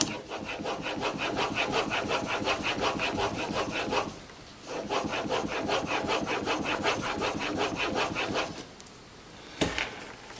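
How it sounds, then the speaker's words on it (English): A plane iron from a No. 078 plane being honed on its secondary bevel in a honing guide, with steady rhythmic back-and-forth rasping strokes, close and clear, a brief pause midway, then a final knock. "I could probably just put the secondary bevel on here and be done with it."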